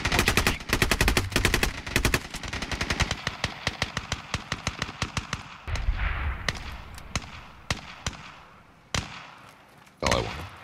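Rapid gunfire bursts in a first-person shooter game, with sharp repeated shots of rifles and automatic weapons, some close and loud, others thinning out into scattered single cracks with a heavy blast near the end.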